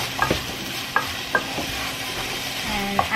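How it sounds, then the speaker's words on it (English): Ground pork browns in a pan with a constant sizzle, punctuated by a few sharp clicks and taps of a utensil stirring the meat. "I'm just browning the meat so that the dish can have lots of flavor"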